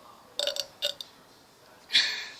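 Burps come after someone drinks a whole bottle in a burping challenge: short clustered throaty bursts close to the microphone, then a longer, louder burp near the end.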